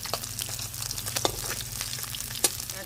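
Pabda fish crackle and sizzle steadily in hot oil, with a dense frying hiss throughout and a couple of sharp spatters standing out.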